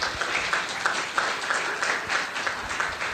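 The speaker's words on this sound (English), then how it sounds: "I want to give Ashanti another round of applause because this takes real bravery." A crowd at a child protection town hall meeting claps for Ashanti in steady, moderately loud applause with scattered individual claps standing out.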